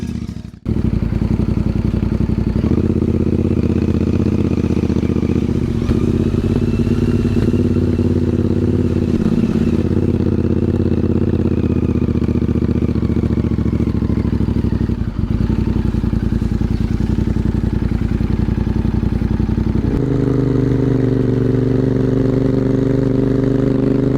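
A twin-cylinder Interceptor motorcycle engine drones loud and steady while riding on a steep road. The pitch shifts a few times with gear changes and throttle, and nobody speaks.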